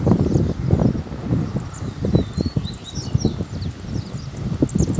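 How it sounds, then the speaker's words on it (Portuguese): Steady wind gusts across the microphone outdoors in a brushy field, producing a continuous low rumbling buffet, with faint bird chirps far in the background. "Tá ventando um pouco aqui."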